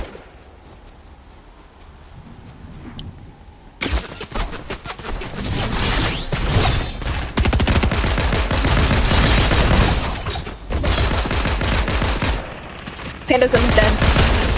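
Rapid bursts of gunfire from the video game Fortnite break in after a quiet start and then rattle on almost without pause, dense and loud, while players talk over the shooting.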